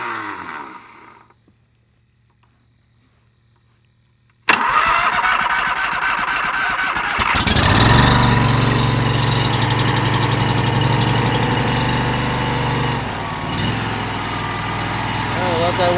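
A log splitter engine with a faulty key switch is jump-started after a quiet stretch, catches with a sudden loud roar, revs briefly, then settles into a steady close idle, with someone talking near the start.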